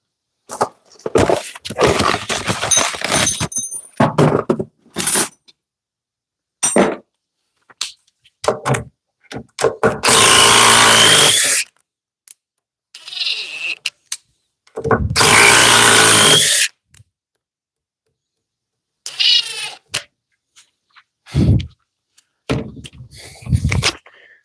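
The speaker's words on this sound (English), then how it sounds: "The impact that we're testing out against the Milwaukee Flex and DeWalt is the Hercules HCB81B" A Hercules HCB81B impact driver running in repeated bursts, loud close rattling hammering trigger pulls of varying length with silent gaps between them and some handling knocks.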